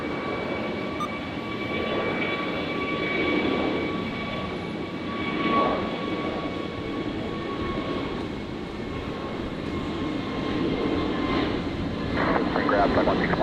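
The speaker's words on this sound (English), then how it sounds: "So Jetstar 969. Rolling now, the 321 Neo." A Jetstar Airbus A321neo jet begins its takeoff roll, a steady distant engine roar building slowly at an airport, with people talking over it.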